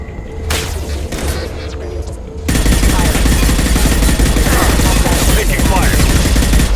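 Video game gunfire in Mass Effect 2, dense rapid shots that start sparse, then swell into a loud, continuous barrage of automatic fire and booms over the last few seconds, without any talking.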